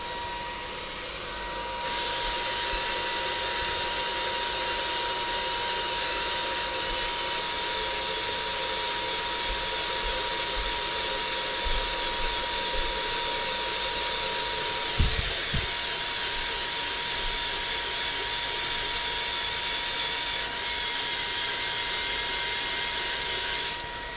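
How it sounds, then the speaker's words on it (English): Motorized desk lift gearbox running in low gear, a steady high whine with a constant hum held for about twenty seconds, a brief knock partway through, close and without speech. "So this is in slow mode on the gearbox, or the low gear, and that is strong enough to lift me"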